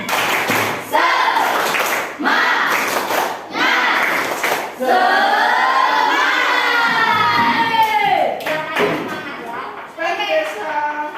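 An elementary classroom of children performs the tepuk semangat spirit clap, a chanted rhythmic clapping routine. Bursts of claps and shouted chanting come close and loud, with a long sustained group chant in the middle and an adult voice talking between bursts.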